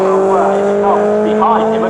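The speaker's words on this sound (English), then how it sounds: "behind him are Class A cars, and they are Cole Robinson and Aaron Ross" MG Cup racing cars at Snetterton circuit drone past with sustained engine roar, loud and continuous, while a commentator talks over the noise.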